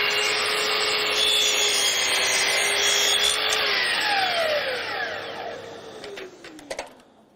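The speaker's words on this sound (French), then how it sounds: "J'insère la plinthe et en coupe une partie." A Festool Kapex KS 120 radial mitre saw runs loud and steady as it cuts through a baseboard, then winds down with a falling whine and a few clicks and knocks at the end.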